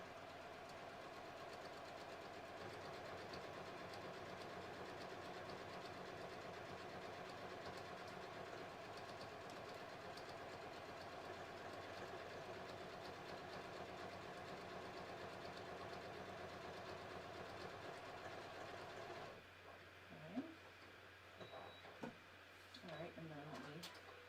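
A sewing machine stitches a sleeve seam with a steady, even mechanical whir that runs continuously, then stops, leaving faint handling noises and soft clicks near the end.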